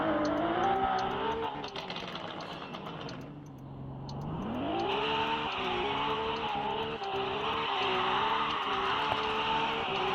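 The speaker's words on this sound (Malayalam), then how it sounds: "നമ്മളൊക്കെ ഇങ്ങനെയാണ് ഡ്രിഫ്റ്റ് ചെയ്യാറല്ലേ" A car drifting in circles, its engine droning and rising in pitch with steady tire noise, dipping briefly mid-clip before climbing again as it keeps spinning round, loud and continuous with no talk.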